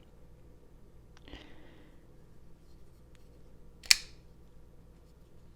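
A TWOSUN TS125 folding knife flicks open with a short swish and then a single sharp, bright snap as the blade locks, both close and crisp against a quiet background.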